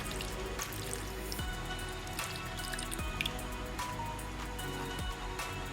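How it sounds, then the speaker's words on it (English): Fresh milk pours into condensed milk in a stainless steel bowl for cream caramel, a soft, continuous trickle of liquid with small splashy drips, close by and without talk. "Now I'm gonna add a little bit fresh milk."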